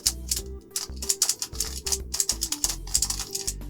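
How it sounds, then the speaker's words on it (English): A Scube twisty puzzle being turned quickly by hand, giving dense rapid plastic clicks and clacks as its layers snap into place, close up and continuous with no voices. "The clicking in place is definitely more subtle than on other Scubes that I've felt in the past"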